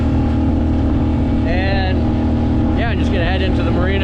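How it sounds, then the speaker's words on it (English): A three-quarter-strength outboard motor pushes a sailboat toward a marina in gusty wind, its steady low drone running the whole time beneath a voice speaking close by. "So I got the outboard on."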